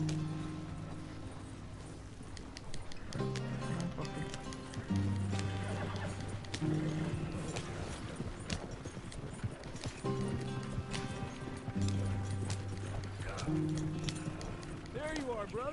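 Horses clip-clop at a steady trot in Red Dead Redemption 2, with hoofbeats running through a busy in-game scene under music and occasional voices, and a whinny rising near the end.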